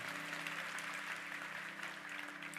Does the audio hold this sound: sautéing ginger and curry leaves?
no